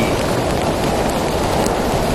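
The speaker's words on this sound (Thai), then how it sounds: "เวลาฝนตกกับอยู่ในป่านะครับ" Heavy rain pours on a forest, a dense constant hiss of drops that stays even and loud throughout, with no voices.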